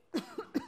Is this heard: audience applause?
no